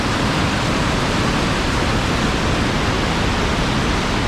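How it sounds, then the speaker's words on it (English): Floodwater pours over a wall as a steady, dense roar like a waterfall during severe Garden Route flooding, loud and unbroken from start to finish. "the sound of this water is amazing, the sound that water can make."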